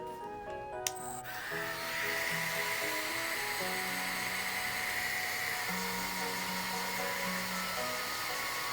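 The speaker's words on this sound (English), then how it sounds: "ask a grown-up for a blow dryer" A click, then a hair dryer switches on and blows with a steady, high whirring roar that continues to the end.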